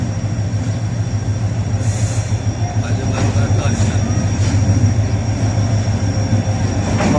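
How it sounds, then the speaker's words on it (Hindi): The Pakistan Express train rolls into Faisalabad railway station, a loud, steady rumble of wheels and carriages with a droning engine hum and occasional squeals and clatter, and someone talks over it. "पाकिस्तान एक्सप्रेस रेलवे स्टेशन पे आ चुकी है।"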